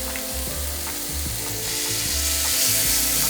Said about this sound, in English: these little tomatoes that we're going to char too